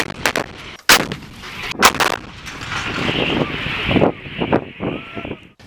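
Ukrainian Navy coastal artillery D-20 guns fire in a quick series of loud booming blasts during training, each followed by rolling echoes and wind noise outdoors.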